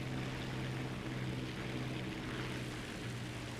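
Steady, loud propeller engine drone of an HE-51 floatplane in War Thunder, a continuous low buzzing hum with a strong tonal whine that holds unbroken throughout, with no voices.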